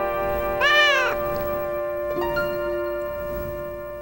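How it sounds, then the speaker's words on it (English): A kitten meowing in the video game Shadow of Destiny, one clear rising-and-falling meow followed by a short, quieter second mew over a steady humming background. "Come here, little kitten."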